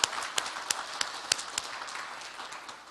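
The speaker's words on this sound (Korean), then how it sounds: "더 힘내시라고 박수 한번 크게 해주시면 감사하겠습니다." Sparse audience applause at a Korean community celebration event, a handful of sharp claps standing out over a thin, quiet patter that fades toward the end.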